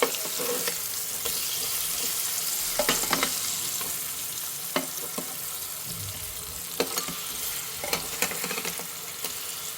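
Pineapple slices roasting in a pan for grilled pineapple make a continuous, close sizzle broken by occasional sharp clicks and scrapes, with no one talking.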